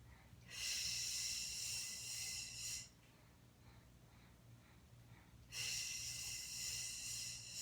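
Two long, deep breaths during a beginner Pilates exercise, each a strong breathy hiss lasting a couple of seconds, separated by a quiet pause, close to the microphone.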